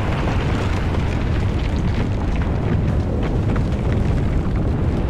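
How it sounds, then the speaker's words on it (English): A loud gun fires in the video game Volcanoids, a dense, continuous roaring blast that fills the whole stretch with heavy rumbling and explosive crackle and no pause. "I put a gun. It is so loud."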